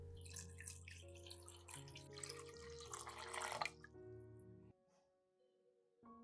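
About half a litre of clean water is poured into a pot of potato peels, a continuous splashing pour that builds, then stops abruptly, leaving faint drips and quiet.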